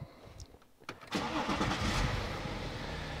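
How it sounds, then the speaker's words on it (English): A BMW engine is started from inside the car: a brief starter crank, then the engine catches and settles into a steady mid-pitched idle, heard close up with no talking. "We'll start the car."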